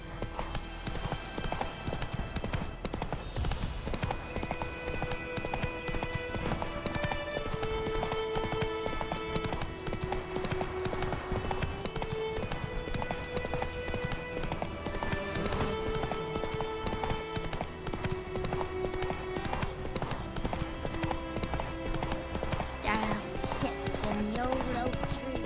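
Roach the horse clip-clops steadily through The Witcher 3's White Orchard, hooves beating rhythmically under a loud continuous orchestral score, with a brief rider's voice.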